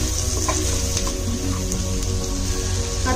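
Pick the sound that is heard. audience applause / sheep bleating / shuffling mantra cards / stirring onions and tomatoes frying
stirring onions and tomatoes frying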